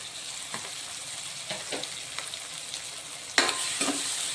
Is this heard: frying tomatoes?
yes